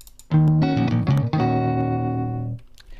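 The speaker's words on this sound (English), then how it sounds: "Now the sample guitar comes with a bass that sounds like this." A sampled bass plays a few deep, plucked notes in quick succession, then holds a sustained tone that ends abruptly.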